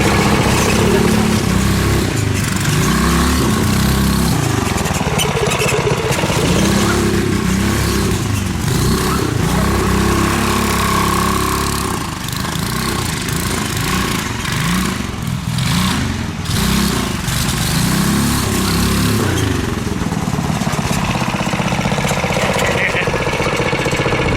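A Coleman KT196 go-kart with a Predator 301 engine runs loud and steady throughout, its engine note rising and falling with throttle as the wheels spin, with faint talk underneath.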